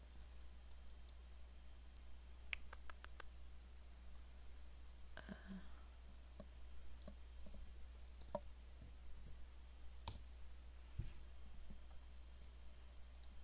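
Scattered mouse clicks on a computer, a few short sharp ticks spread out over a steady low hum, fairly faint with no talking.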